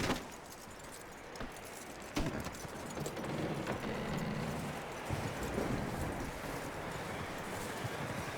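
A horse in Red Dead Redemption II walks with clear, close clip-clop hoofbeats and occasional jingling tack over a low ambient background.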